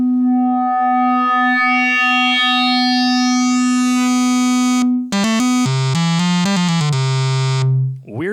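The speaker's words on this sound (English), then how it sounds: "Wavefolding is a totally unique way to add harmonics to waves" A steady, buzzy synthesizer sine wave run through a wavefolder grows brighter and richer as harmonics build, then jumps through a few lower stepped pitches before cutting off.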